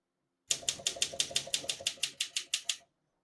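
Brisk, evenly spaced clacks of keys striking on a vintage portable typewriter, about a dozen sharp strikes in a regular rhythm, close and alone before stopping.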